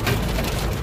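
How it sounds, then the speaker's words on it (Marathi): Rain and hail pound a car on the Samruddhi highway in a dense, loud, unbroken patter that fills the whole moment. "पाऊस सुरू झाला मित्रांनो आणि अशा गारा पडतात,"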